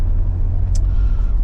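Ineos Grenadier 4x4 accelerating on an open road at national speed limit, a deep steady engine and road rumble heard from inside the cabin, loud and continuous with a brief high click midway.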